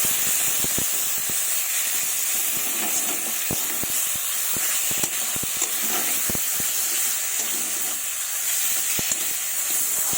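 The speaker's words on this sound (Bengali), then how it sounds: "এবার ভালোভাবে আর একটু কষিয়ে নেব" Chopped tomato frying in a pan for a fish and potato curry, giving a steady, close sizzling hiss with scattered clicks of stirring throughout.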